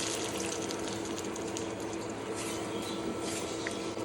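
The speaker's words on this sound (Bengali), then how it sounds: "এবার কিছু কাঁচা লঙ্কা দিয়ে জল দিয়ে দেবো।" Water being poured into egg korma with green chillies, a steady wash of splashing liquid that fills the whole moment, close and without any voices.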